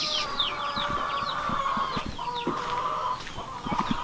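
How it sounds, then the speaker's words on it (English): A group of chickens clucks and squawks close by, with overlapping calls and a few sharper cries in a continuous, busy chatter. "Lots of chickens."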